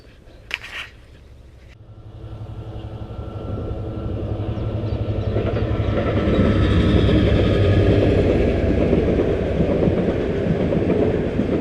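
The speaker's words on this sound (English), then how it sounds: "Sounds like there's a train coming." A train near Shornemead Fort approaches and rumbles past, building from a low hum into a loud, steady roar with rattling wheels, after a few brief knocks at the start.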